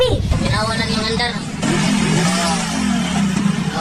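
A motorcycle said to run on water revs and runs steadily close by, its mid-pitched engine note continuous and loud under overlapping speech.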